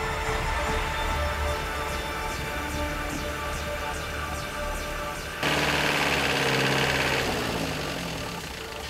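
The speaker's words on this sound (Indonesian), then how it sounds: "ada juga yang sudah memakai mesin kendaraan untuk menarik seling baja dan timba besi" A vehicle engine runs loud and steady while pulling a steel cable and iron bucket from an old oil well, with a rough drone and a brief surge partway through.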